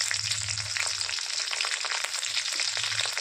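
Chopped green chilli and onion frying with browned garlic in a pan for a mushroom masala, producing a loud, continuous dense sizzle that stays steady from start to finish with no talking.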